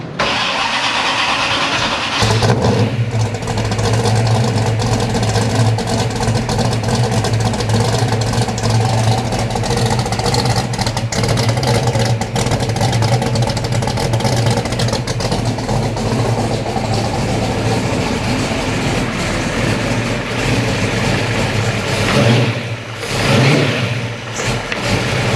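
Big Hemi engine in a custom Plymouth Cuda cranks, fires and settles into a loud, lumpy idle with repeated revs, close and continuous for most of the stretch before briefly dropping near the end.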